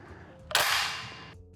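The action of a Dickinson CK212 shotgun locking back, a single close, sharp metallic clack with a short bright rattle that fades within about a second.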